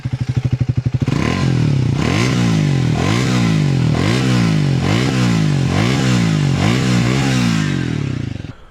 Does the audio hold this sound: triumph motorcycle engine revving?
yes